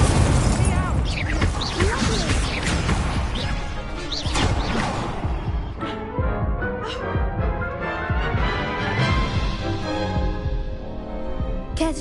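An Incendio fire spell is cast in Hogwarts Legacy amid a chaotic mix of crashing impacts, booms and whooshing bursts, loud and dense, with voices talking over the action.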